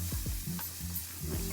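Stirring creamy chicken spaghetti in a pan, several scraping strokes of a utensil over a steady close sizzle of cooking food, with no talking.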